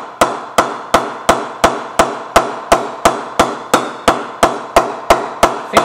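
A Kookaburra Kahuna 1000 cricket bat with 37 mm edges and a 2.8 weight is tapped in a steady series of about eighteen sharp, ringing knocks, close and alone.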